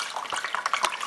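Water trickling and splashing through a small fake river in a Christmas village display, a soft, steady burbling with little droplet splashes, fairly faint and close.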